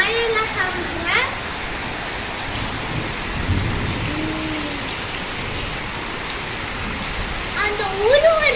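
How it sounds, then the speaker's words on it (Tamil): Steady rain patters and hisses on surfaces outdoors during the rainy season, with birds chirping intermittently and a voice speaking faintly over the constant downpour. "இந்த மழையெல்லாம் காமிக்கிறேன்"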